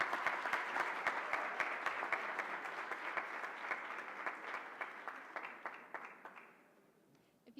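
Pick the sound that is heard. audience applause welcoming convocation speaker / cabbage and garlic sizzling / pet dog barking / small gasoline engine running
audience applause welcoming convocation speaker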